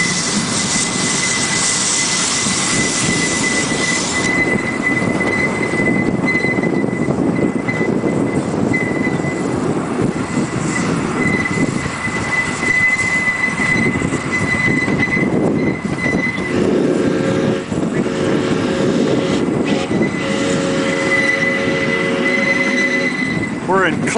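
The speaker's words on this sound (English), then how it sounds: "Nice little train ride here." A steam train rumbling along on the rails in Clinch Park, Traverse City, with steady mechanical noise, wheel squeals and hums throughout, and voices talking underneath.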